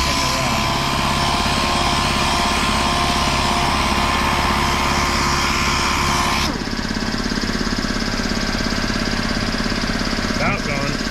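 Power polisher buffing the clear-coated paint of a 1972 Dodge Challenger, a loud, steady mechanical whir that shifts pitch partway through as pressure changes, close up, with people talking over it.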